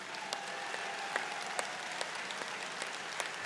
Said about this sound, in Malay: Kita bagi tepukan gemuruh kepada Datuk Seri Hasni.